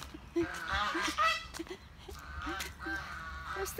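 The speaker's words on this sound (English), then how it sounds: "There's the duck." Repeated loud honking calls from a farm duck, several nasal blasts in an irregular rhythm, close by and clear over a low hum of outdoor background noise in a hot rural yard in Tarlac, Philippines.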